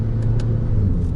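A 2016 Acura ILX in sport mode gives a steady, loud engine rumble from inside the moving car, with a couple of faint brief clicks over the drone.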